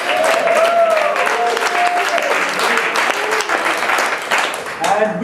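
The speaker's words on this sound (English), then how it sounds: "Another applause for you guys for coming out on Thursday night." Loud applause at a live comedy show on a Thursday night, with dense clapping throughout and whoops and cheering voices rising over it.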